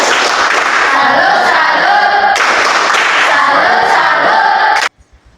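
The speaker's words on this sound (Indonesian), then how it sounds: "Tepuk salut untuk kita semua." A classroom of students claps loudly together in a dense, steady 'tepuk salut' clapping routine, two sustained rounds close-up, cutting off sharply into near silence.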